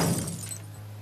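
Glass smashing in Life Is Strange: Before the Storm, a single sharp shattering burst at the start that quickly fades into a lingering low hum.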